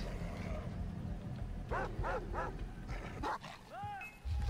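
Dog barking in the Far Cry 3 video game, a few sharp yips and barks in quick succession under a player's voice and game ambience.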